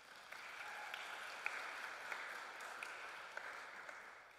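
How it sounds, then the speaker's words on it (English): A large church audience applauds after news of Easter Sunday attendance, a steady wash of many hands clapping at a fairly quiet, distant level, with a few sharper individual claps standing out. "Yeah, you can clap for that."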